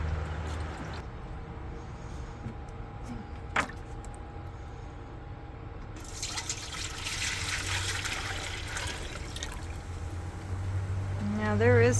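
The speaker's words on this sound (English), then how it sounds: "And then I will pour the liquid back into here." Dye liquid from naturally dyeing wool being poured back into a rinsed pot, a steady close trickle and splash that grows louder toward the end over a low background hum.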